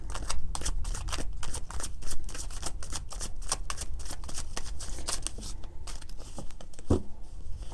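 Tarot cards being shuffled by hand, a rapid run of crisp riffling flicks and slaps that goes on steadily and up close, with a brief thump near the end.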